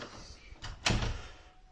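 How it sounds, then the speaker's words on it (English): A door is pushed shut with one soft knock followed by a louder thud, fairly close, in a quiet room. "Shut the door."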